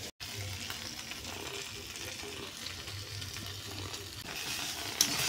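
Pasta with Maggi masala sizzling in a frying pan, a soft steady crackle with occasional light stirring scrapes, fairly quiet and close, no voices.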